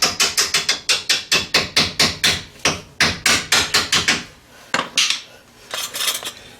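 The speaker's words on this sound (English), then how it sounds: "carefully use your mallet again to tap the sort of self-aligning screws into the frame" Mallet tapping self-aligning screws into a Honda Civic's front frame during lower control arm replacement: a fast run of sharp, evenly spaced metallic taps close by, then a brief pause and a few more hits.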